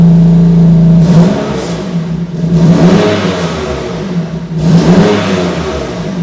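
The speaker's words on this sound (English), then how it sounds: "So this is the exhaust in comfort mode" Warm BMW M2 Competition exhaust in comfort mode at idle, a loud, steady low burble close by, broken by a few brief blips that swell and settle back.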